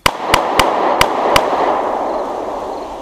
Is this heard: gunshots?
yes